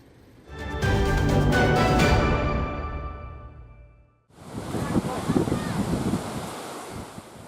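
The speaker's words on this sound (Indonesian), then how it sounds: "Ketinggian ombak mencapai lebih dari 2 meter dan terkadang disertai angin kencang dan hujan deras" High sea waves crash in the waters south of Papua, driven by strong wind that buffets loudly. One heavy surge swells and fades, then a second rough burst of surf and gusts follows.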